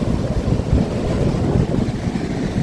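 Sea water rushing in on the shore at Devgad, a steady, broad wash of surf with wind buffeting close by, continuous and fairly loud with no talk.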